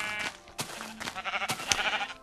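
Sheep bleat in a Minecraft sheep farm, several short overlapping bleats in quick succession, fairly close and clear with no talking.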